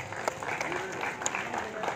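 Applause from spectators at the final match of a cricket tournament: a steady patter of clapping throughout, with voices mixed in.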